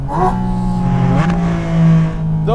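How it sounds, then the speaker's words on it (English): Porsche Boxster Spyder RS engine blipping on a downshift, with sharp rev flares at the start and near the end around a steady loud drone and a mid-clip rev change. "Even if you're at a lower RPM, right, and you're going with a downshift, those little power sniffles"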